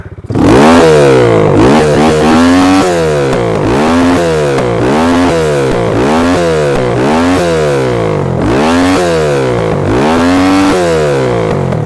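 A Geo-Minsk motorcycle engine revs hard again and again in a steady rhythm, each rise in pitch followed by a quick drop, loud and close.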